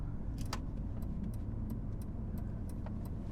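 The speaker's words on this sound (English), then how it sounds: "I'm still enjoying smoothly driving around in this lovely old Holden" An old Holden ute cruises smoothly along the road, its steady engine and road rumble holding a low drone, with light rattles and jingles from inside the cab scattered over it.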